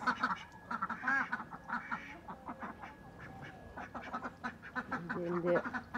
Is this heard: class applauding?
no